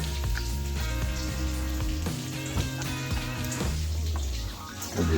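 Beer-battered onion rings frying in hot oil, a steady dense sizzle with crackling that runs throughout, with tonal music-like sounds layered over it.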